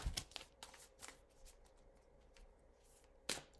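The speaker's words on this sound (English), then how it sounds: "I'll put this up while I'm shuffling." A deck of oracle cards is shuffled by hand, giving soft riffling and tapping with a few sharper snaps, close and quiet.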